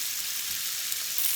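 Garlic and herb lamb chops fry in a pan over turned-down heat, a short, even, hissing sizzle heard close up with no voices.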